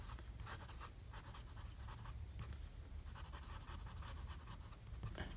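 A Lamy Safari fountain pen with a medium nib and Atramentis Giuseppe Verdi ink scratches steadily across paper in close, continuous strokes with short pauses, faint and unbroken by talk.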